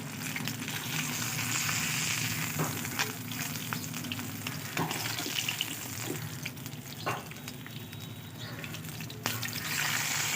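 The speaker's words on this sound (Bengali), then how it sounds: "মাছগুলো দুপিঠেই আমি একইভাবে ভেজে নিয়েছি" Pabda fish fry in hot oil in a pan, giving a continuous close sizzle with scattered pops and occasional utensil clicks, with no speech over it.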